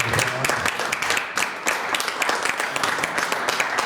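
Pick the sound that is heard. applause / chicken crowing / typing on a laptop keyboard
applause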